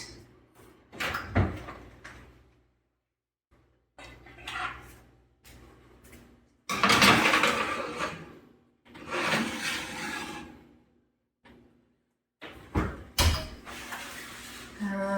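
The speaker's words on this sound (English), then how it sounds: "now we're putting it in the oven to roast" An oven door opens and closes around a pan being slid in to roast broccoli and sausage, with scattered clunks, rattles and a firm slam amid short bursts of talk.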